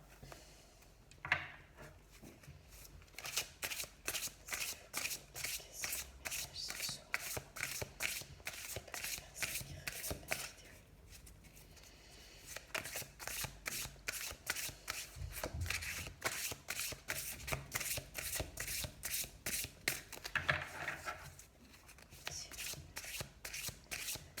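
Tarot or oracle cards being shuffled for a reading, a long run of quick, crisp riffling bursts with short pauses between, close and fairly quiet.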